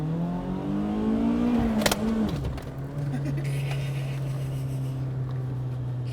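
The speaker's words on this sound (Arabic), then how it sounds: "اسمعوا صوت المحرك الاربع سلندر" A BMW M3 E30's four-cylinder engine revs hard, its pitch climbing and then dropping sharply before settling into a steady droning idle, heard close up inside the car as people talk over it.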